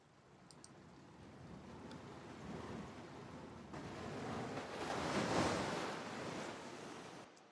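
Library ocean waves: a steady wash of surf that rises and falls gently, swelling to a broader crash near the end, with no voices.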